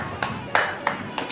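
A handful of sharp, separate claps ring out at a steady, slow pace during a welcome ceremony, fairly close and moderately loud.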